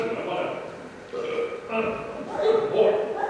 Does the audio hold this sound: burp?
yes